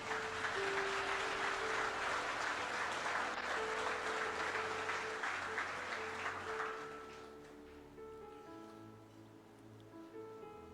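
A church congregation claps together during a Spanish-language sermon, dense sustained applause that fades toward the end, with sustained musical tones underneath.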